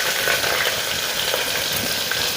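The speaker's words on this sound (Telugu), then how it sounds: "ఆనియన్స్ వేసేస్తున్నాను" Onions frying in a pan for mutton curry give a steady, close, broadband sizzle that holds evenly throughout with no talking.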